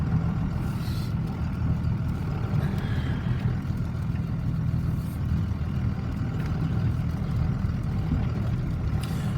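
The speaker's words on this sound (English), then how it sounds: "And I heard my truck running or something." A pickup truck engine runs steadily outdoors on a cattle farm during hay feeding, a continuous low rumble that holds even and fairly close for the whole stretch, with no talking over it.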